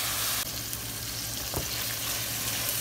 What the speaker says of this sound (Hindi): तो फ्राई करूँगी इसमें घी में इतना कि ये चिकन